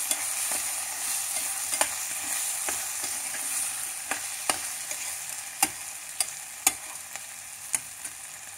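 Mutton keema with beans being stirred in a pan: a constant gentle sizzle with repeated sharp spoon clinks against the metal, growing more frequent and pronounced toward the end, close-up with no voices.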